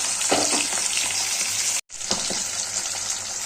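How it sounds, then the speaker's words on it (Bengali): Pomfret fish frying in hot oil, a loud, dense, continuous sizzle close up with crackling spatter, cut by a brief silent gap midway before resuming just as strongly. "মাছগুলো আমি ভাজা বসিয়ে দিয়েছি"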